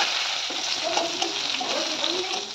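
Potato, eggplant and pointed gourd fry together in oil with a steady, close, even sizzle and faint stirring textures throughout the short stretch.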